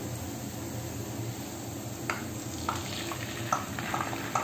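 Canned tuna stir-fried with light-browned onion and garlic in a pan gives a steady sizzle, with a few sharp scrapes and clinks of the utensil near the end.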